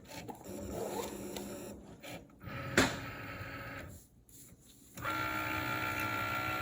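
A Cricut cutting machine scores a fold line across the middle of a card, giving a steady mechanical whirring and rasping hum with a sharp click midway and a louder motor run near the end.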